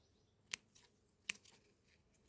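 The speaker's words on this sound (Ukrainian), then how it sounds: "Все, що нижче, я обрізаю листочки." Small scissors or pruning snips cutting tomato plant leaves, a few quiet separate crisp snips with short pauses between them in an otherwise quiet garden.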